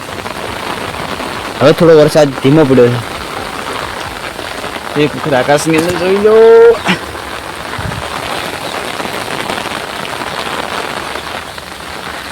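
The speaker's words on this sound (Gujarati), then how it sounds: "હવે થોડો વરસાદ ધીમો પડ્યો છે।" Rain easing off over a farm field, a steady dense hiss of drops on the ground throughout, with someone speaking in two short bursts near the start and middle.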